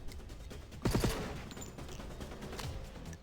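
A burst of SMG fire rattles in rapid succession in the sci-fi tactics game Stellar Tactics, followed by fainter shots and combat noise at a low level.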